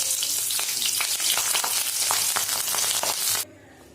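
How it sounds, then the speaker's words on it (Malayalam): Chilli chicken pieces with slit green chillies fry in a pan, a dense crackling sizzle with frequent spatula scrapes, close and continuous with no voices, stopping abruptly near the end. "ഇനി 2 പച്ചമുളക് കീറി ചേർത്ത് ഇതിനെ നമുക്ക് ഫ്രൈ ചെയ്തെടുക്കാം."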